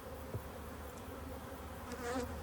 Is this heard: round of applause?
no